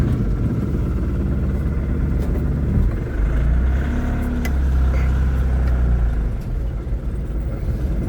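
A vehicle drives along a road with a steady engine rumble and road noise, loud and close, with the drone rising and easing slightly throughout.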